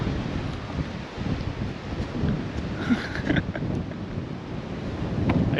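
Strong wind gusts across a microphone on the rough-weather coast near the port at Yeppoon, Australia, giving a loud, continuous rumbling buffet with surf-like swells and no speech.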